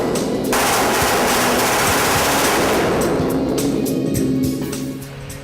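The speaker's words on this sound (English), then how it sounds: "we test obviously each pistol with an entire pistol magazine" Beretta 9mm pistols are test-fired through full magazines at the factory, a rapid string of loud, closely spaced shots that forms a dense barrage before it tapers off.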